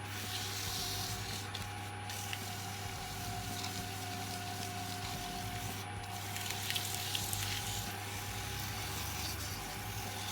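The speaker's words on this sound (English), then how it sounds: "We're just really going to just a light rub, and then we'll go back and we'll put another coat of wood wax" Wood wax is rubbed onto a turned piece spinning on a lathe, a steady, close rubbing and friction hiss over the continuous hum of the lathe motor, with no talk.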